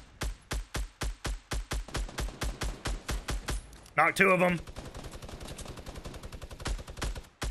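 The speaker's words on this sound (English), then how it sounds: "I had a gunshot to our right" Rapid gunfire in the video game Fortnite, a rhythmic burst of about twenty evenly spaced shots followed by a louder, denser volley, with a player talking briefly over it.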